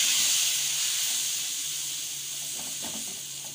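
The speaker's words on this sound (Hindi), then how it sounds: "अब हम इसमें पानी डालेंगे।" Water poured into a hot pan of fried vermicelli for sweet Eid sawaiyan, hitting with a loud steady steam hiss that slowly eases over a few seconds, with no talking.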